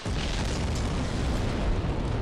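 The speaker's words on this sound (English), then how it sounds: "So the large explosion I just heard in the background has nothing to do with those scorch marks" A large explosion in the video game Dark Souls, a dense sustained roaring blast of rumbling noise heard loud and alone for a couple of seconds.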